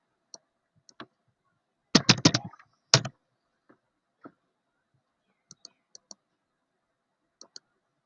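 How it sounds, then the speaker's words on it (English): Sparse, crisp clicks of a computer keyboard being typed on, with a brief quick burst of keystrokes and a few heavier taps among isolated single presses in a quiet room. "So I'm typing CMD here."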